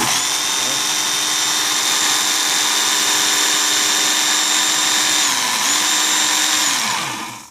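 A Work Sharp Ken Onion electric belt knife sharpener runs loudly and steadily with a constant high motor whine, its pitch dipping briefly as the blade is drawn across the belt, then winding down at the end.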